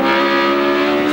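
A Penske Porsche race car at full throttle during the 2007 Detroit Sports Car Challenge holds a loud, steady, high-pitched engine drone with no break.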